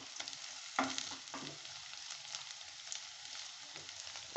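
Onions and green chilies salted and stirred in a pan for aval upma, a soft steady sizzle with scraping spoon strokes and a few taps against the pan, no voices.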